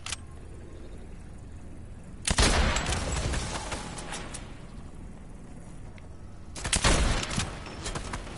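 Two bursts of rifle fire in Fortnite ring out close and loud, each a sharp volley trailing into a ringing tail, separated by several seconds of low game ambience.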